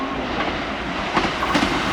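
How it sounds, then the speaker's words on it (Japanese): A Kintetsu train runs through a station between Sanbonmatsu and Murouguchi-Ono, a steady broadband rumble of wheels and cars with a brief clatter of rail joints, close and loud, with no voices. "まもなく2番線の列車が通過いたします。"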